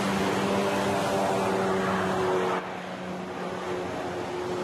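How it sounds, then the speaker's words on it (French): Jet ski engine droning steadily as the rider races out alone between large waves, a continuous motor hum mixed with wind and water noise, with a slight drop in level partway through. "Seul sur le jet ski, Gauthier fonce le récupérer entre deux vagues."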